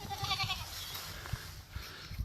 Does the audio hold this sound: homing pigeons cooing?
no